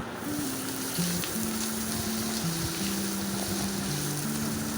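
Chopped onions fry in hot soybean oil in a wok, giving a steady, even sizzling hiss throughout, with a soft melodic tune playing alongside.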